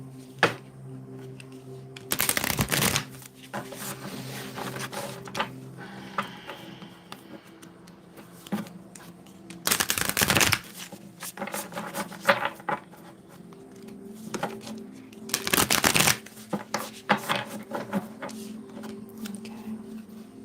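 A deck of light worker oracle cards is shuffled in three loud, brief riffling bursts spaced several seconds apart, close up, with quieter handling and shuffling sounds between them.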